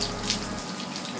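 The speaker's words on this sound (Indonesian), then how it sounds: "kalau bilas dari atas seperti hujan mengalir gitu ya, jangan sampai disemprot" Water pours down over a bicycle being rinsed during a wash, a steady close hiss of flowing water like a tap running, with no voices.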